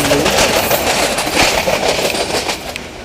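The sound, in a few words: small train running on metre gauge track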